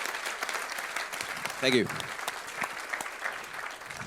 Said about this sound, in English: I think these guys deserve applause as well.